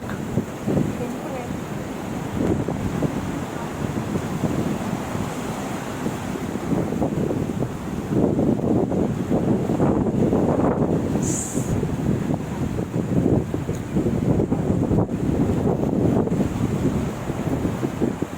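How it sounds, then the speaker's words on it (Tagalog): Strong ocean waves surge and wash at Stanley Beach, Hong Kong, a steady loud roar buffeted by wind noise on the microphone, with people talking faintly over it. "Lakas ng alon."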